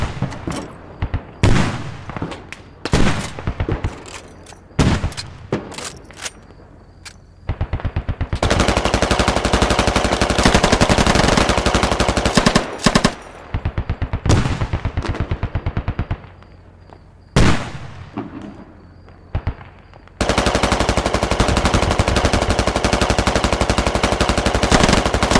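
A PKP machine gun fires in the military shooter Squad. Several sharp single shots and short bursts give way to long, loud, sustained automatic fire, broken by brief pauses.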